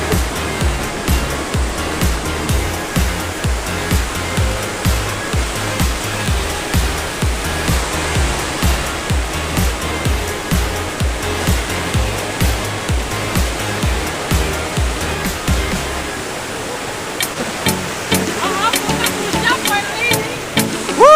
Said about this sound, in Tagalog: Hindi naman pala ganun kalakas ng agos.